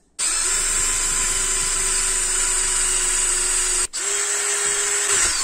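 Power drill boring a hole through metal from an old shovel clamped in a vise: a loud, steady high-pitched whine starting abruptly, a brief pause near the four-second mark, then continuing as before.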